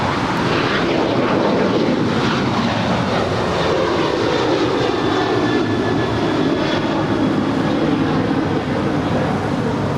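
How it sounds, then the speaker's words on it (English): United Boeing 737-900ER, seven years old, departing Los Angeles for Cancun: a loud, continuous jet roar with a sweeping tonal whine, close and unbroken, with no talking. "That's United 1608 off to Cancun, a 7-year-old 737-900ER"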